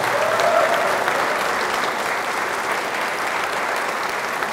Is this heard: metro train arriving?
no